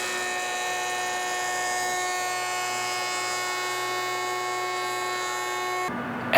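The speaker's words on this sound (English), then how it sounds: "we can clean up that edge on the joiner" A woodworking jointer motor runs with a steady, high-pitched whine while cleaning up a board edge, holding evenly for about six seconds before cutting off abruptly with a short clatter at the end.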